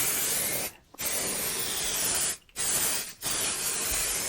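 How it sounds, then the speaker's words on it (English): Sustained hissing bursts of an aerosol silicone mold release spray, close up, with three brief pauses between long sprays. "I am going to spray this universal mold release."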